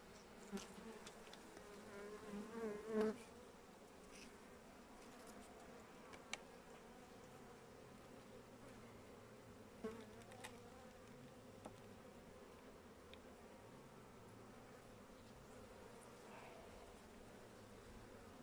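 Honey bees hum and buzz in an open beehive of a weak colony in December, a steady close drone with a few louder passes near the start, no talking.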